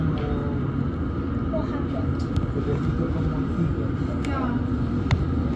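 A London Underground District line train pulls away, its steady low rumble and rolling noise continuous throughout with brief faint squeals, while people talk over it.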